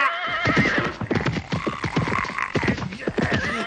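A horse whinnies in a long, shaky series of neighs, loud and close, with no talking.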